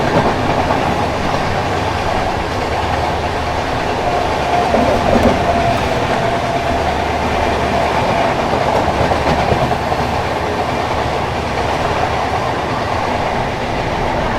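An express train roars past on an adjacent track at close range, heard from aboard another train, a loud, steady rumble with rhythmic clatter of wheels on rails that continues throughout.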